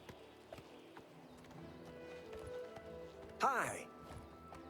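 Horse hooves clip-clop steadily in the Oblivion Remastered video game, faint and continuous under a voice, with a brief whinny-like cry near the end.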